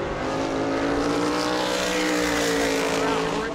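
A race car on a qualifying lap at New Smyrna speedway runs down the back straightaway, its engine a steady, loud drone that holds a constant pitch for the whole stretch.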